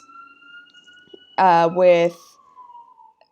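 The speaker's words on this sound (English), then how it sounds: "Sorry if you can hear that siren in the background." A siren wails steadily in the background across the whole stretch, a thin sustained tone that keeps sounding beneath a brief burst of nearby speech.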